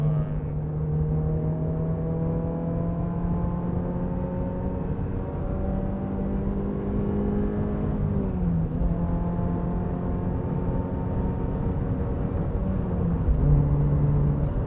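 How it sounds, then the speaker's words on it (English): Subaru BRZ / Toyota GR86 accelerating hard on a highway, the engine note climbing steadily through several gears with brief dips at each shift, loud and continuous over road rumble. "Look at that, 3 gears and I didn't even catch up to the car in front of me."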